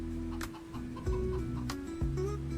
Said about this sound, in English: Thought I bought 20 of them, but it looks like I only have one golden hen.